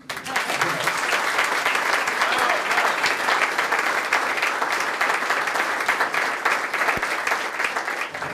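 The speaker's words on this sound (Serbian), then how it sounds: "Još jedan aplauz za njih." A large audience breaks into loud, sustained applause at an evening event, dense steady clapping that fills the whole stretch without letting up.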